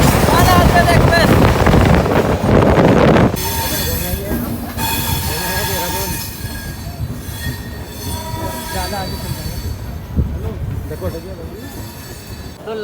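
Ala Hazrat Express passing close by, a loud roar of rolling wheels and rattling cars with squealing metal tones, easing slightly after a few seconds as it continues past, with a voice talking over it.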